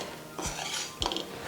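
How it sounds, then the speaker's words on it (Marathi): A utensil scrapes and clinks against a pan while semolina is stirred and roasted in ghee, giving two or three brief metallic scrapes and taps close by, with no talk. "त्याच्यासाठी एकसारखं परतत राहायचं 20 मिनटं हा रवा."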